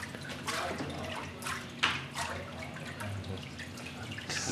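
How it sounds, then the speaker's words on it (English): Water drains and drips from a paper mould being shaken during handmade papermaking. Soft trickling and splashing come through in several small surges, with one sharper splash near the middle, fairly quiet and close. "shake it a little bit, so the water goes down"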